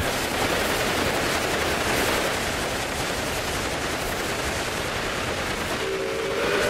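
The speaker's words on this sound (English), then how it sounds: "So this is the uh, London to Dover train." Steady rumbling of a London to Dover train in a custom network-building video game, running continuously and loud throughout, with a brief whistle-like tone near the end.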